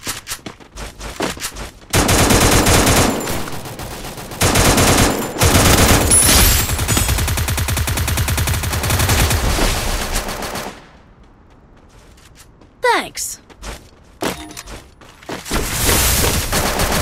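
Rapid automatic gunfire and bursts of shooting from the video game Free Fire, loud and nearly continuous with a brief lull before more volleys.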